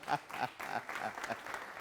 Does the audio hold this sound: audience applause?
yes